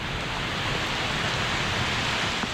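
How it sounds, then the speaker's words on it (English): Steady, dense rain hisses down outdoors during a fishing trip, a continuous even wash of noise with no voices. "And then it rained."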